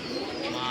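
White Hungarian High Flyer Budapest pigeon, a single female, cooing close up in a short, soft burst with no talk over it.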